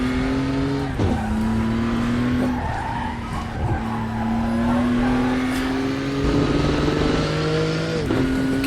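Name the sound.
racing car engine and throttle in Raceroom video game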